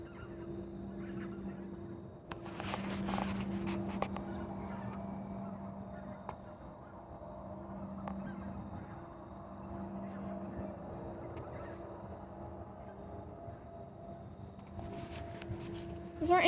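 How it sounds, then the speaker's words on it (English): Repeated honking calls from birds thought to be geese sound at a moderate distance in steady bursts, with a few sharp knocks in between and quiet talk now and then. "Those aren't any geese I've heard before."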